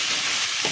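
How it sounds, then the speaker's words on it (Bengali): Soybean pods frying in a pan with salt, turmeric and green chilli give a dense, even sizzle that fills the whole moment, with a faint scrape of stirring near the end and no talking. "এবার একটু দিয়ে দেব নাড়াচাড়া"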